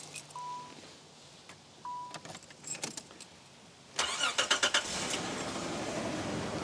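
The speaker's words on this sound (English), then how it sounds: "Now let me start my car." Keys jangle in a few quick rattling bursts, then an older car's engine cranks and catches, settling into a loud, rough idle close by.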